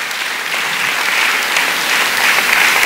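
An audience at a lecture claps steadily, a dense, even wash of applause close by for a few seconds without letting up.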